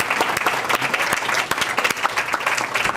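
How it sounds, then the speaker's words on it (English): An audience claps for a school principal at an Ireland trip sendoff, a dense, steady round of applause with sharp individual claps standing out, close and loud throughout. "I want you to give a round of applause to our principal"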